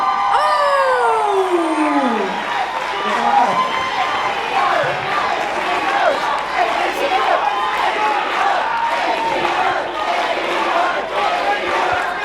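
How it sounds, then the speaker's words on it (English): A loud professional wrestling crowd roars and cheers continuously for tag team champions entering, with whoops, shouts and high whistles over a dense, steady wall of noise. "Crowd is very loud."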